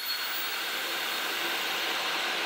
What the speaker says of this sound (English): it's not a loud hair dryer